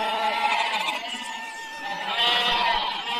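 Goats bleat in a steady overlapping chorus, several animals calling close by and loud with wavering nasal cries, and no one talks over them.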